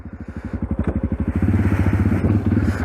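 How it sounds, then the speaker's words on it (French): A quad bike engine cranks and fires up, a loud, rapid, pulsing thump that steadies into a rough, throbbing idle close by, with no talk. "On va démarrer le quad."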